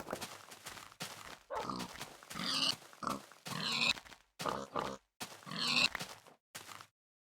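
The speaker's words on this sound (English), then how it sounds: "Thank God, it's pigs." Video game pigs grunt and oink in a run of close, clear snorting calls, each separated by a short gap of silence.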